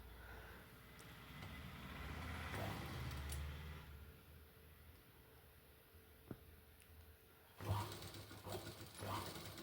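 A sewing machine stitches a churidar's shoulder seam through lining and main fabric, running slowly in a steady whir that stops and restarts, with small handling knocks between runs.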